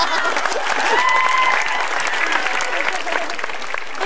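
Studio audience at a televised Indonesian stand-up comedy show applauds a comedian, a dense steady wash of clapping lasting several seconds with faint crowd voices mixed in.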